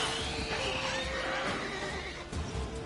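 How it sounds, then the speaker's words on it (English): A horse whinnies in The Witcher 3 at Kaer Morhen, one drawn-out neigh with faint hoof clops and ambient game sound beneath it. "My horse."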